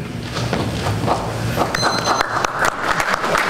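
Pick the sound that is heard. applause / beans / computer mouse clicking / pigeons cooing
applause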